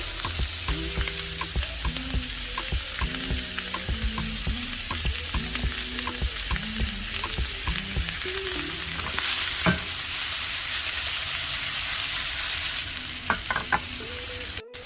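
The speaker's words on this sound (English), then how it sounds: "so we're gonna add in all the onions, get these cooking" Onions sizzle steadily in a hot pan with a little pepper, frying continuously with intermittent stirring scrapes and clatters throughout, close and fairly quiet.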